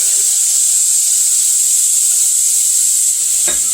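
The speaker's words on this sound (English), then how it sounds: "I'm gonna go ahead and have this rice in the hot oil with the onions." Steady, loud sizzling hiss of rice and onions frying in hot oil, continuous throughout, with a faint scrape near the end.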